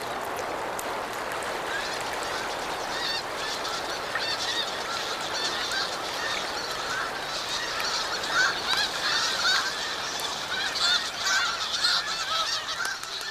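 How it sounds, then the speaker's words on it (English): A flock of white-fronted geese honks continuously, many overlapping calls that swell louder toward the later part, with no voices. "White-fronted geese use the same system of bonding."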